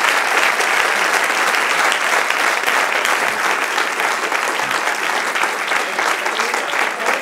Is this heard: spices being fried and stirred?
no